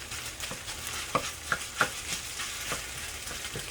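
Rice noodle rolls stir-fried and broken apart in a hot pan, a steady sizzle broken by a few sharp scraping clicks of the spatula against the pan.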